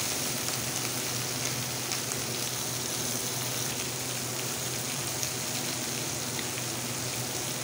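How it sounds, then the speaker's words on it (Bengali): Tomatoes fry in a salted pan for chana dal tadka, giving a steady, close, crackling sizzle that holds evenly throughout with no talk over it. "যাতে টমেটো একটু গলে যায়। একটু ভেজে নিই।"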